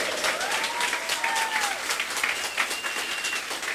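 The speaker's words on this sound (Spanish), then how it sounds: "dele un aplauso bien fuerte al Señor" Church congregation clapping loudly for the Lord, a sustained wash of many hands with a few scattered cheers and voices mixed in.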